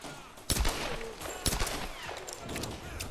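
Several sharp pistol shots ring out in the Tomb Raider video game, a few distinct cracks with echoing tails over a low game ambience.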